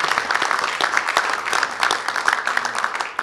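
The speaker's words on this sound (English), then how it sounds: "Let's give a round of applause for that." Applause from a crowded room at a political gathering, moderately loud scattered clapping with distinct individual claps, sustained for a few seconds.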